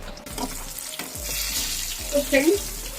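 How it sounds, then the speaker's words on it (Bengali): Pieces of pangasius fish fry in hot oil, a steady close sizzle with soft repeated stirring or turning sounds and faint clinks. "আবার মাছ ভাজার দিকে চলে যাই"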